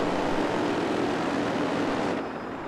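An Ajira Air propeller airplane in Battlefield 4 drones loudly and steadily nearby, a continuous engine roar that eases slightly toward the end.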